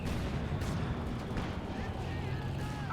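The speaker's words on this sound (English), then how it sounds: "use a bunker busting barrage to bust that mortar emplacement, or in this case just bust the section" Sturmpanzer bunker-busting artillery shells land in Company of Heroes 2 as a series of muffled booms and blasts within dense battle noise, with game commentary talk running underneath.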